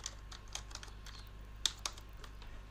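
Fingers type a name on a computer keyboard, a quick run of light, faint key clicks with a couple of sharper taps, close to the microphone in a quiet room.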